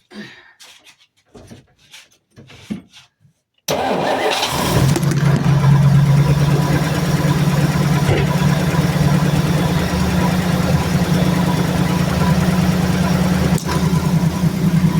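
A few faint clicks and rustles, then a car engine cranks and catches abruptly, settling into a loud, steady rumbling idle close by.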